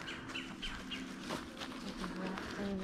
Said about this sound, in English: Oh, I hear a bird chirping.